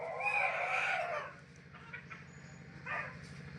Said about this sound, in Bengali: একটি মুরগি